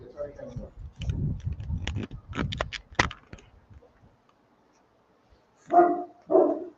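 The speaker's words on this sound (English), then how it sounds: "Anyone wants puppies? Still puppies." Puppies that live alongside lions let out two sharp, close barks at the end, after a stretch of a person talking and a few sharp knocking sounds.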